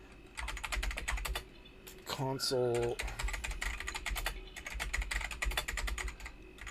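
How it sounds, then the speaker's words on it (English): Rapid clicking of mechanical keyboard keys being typed on, fairly close and steady, pausing briefly while a person speaks in the middle. "You guys like my mechanical keyboard?"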